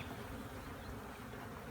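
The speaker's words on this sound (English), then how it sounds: "That was a big load of bees there." Honey bees swarming during a cutout of a swarm trap: a dense, steady buzzing drone of many insects, close and continuous throughout.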